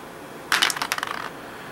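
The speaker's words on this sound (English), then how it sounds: "the drone is going to get to roll 2 dice for his defense" Dice for a defense roll in a Gears of War variant board game: one short, bright clatter as two dice are rolled and tumble to rest, alone and close with no talk.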